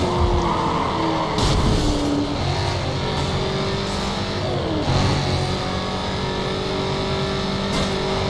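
A Dodge Challenger races in Need for Speed Carbon, its engine revving hard through gear changes with brief tire skids and whooshes, loud and continuous with no talk over it.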